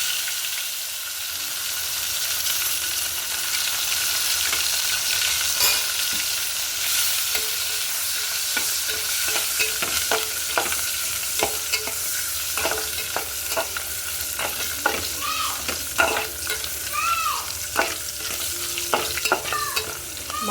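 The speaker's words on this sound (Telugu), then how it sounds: "చేపలు ఏగాయి ఫ్రెండ్స్, తీసుకున్నాను." Dried fish frying in hot oil outdoors on a cold, windy night, giving a steady sizzle throughout with sharp crackles and pops that grow more frequent toward the end, close and fairly loud, with no voices.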